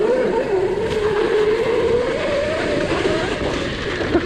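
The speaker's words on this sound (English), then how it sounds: "tire's just spinning." Electric 72V pit bike whining as its tire spins in place, a loud, close, rising and falling motor tone over gritty rumble, continuous for the whole stretch.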